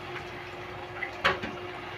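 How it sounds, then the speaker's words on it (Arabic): Water is poured into a cooking pan for a baked fish and freekeh dish, adding to cinnamon sticks and stock; a soft, steady pouring wash runs throughout, with a brief splash partway through. "وهحط كمان ميه."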